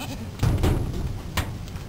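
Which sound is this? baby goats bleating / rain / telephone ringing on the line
baby goats bleating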